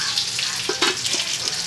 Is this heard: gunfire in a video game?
no